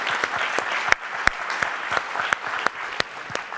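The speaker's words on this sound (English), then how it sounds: "Again, a round of applause." An audience at an academic symposium on mind, brain and behavior applauds after a talk, with steady clapping and a few sharp, close individual claps standing out.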